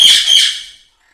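Lovebirds and quaker parrots in an aviary give a loud, harsh, close squawk lasting under a second, then fall silent.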